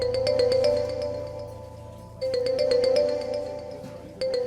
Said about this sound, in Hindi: फोन बाद में सुन लेना प्लीज शाहनवाज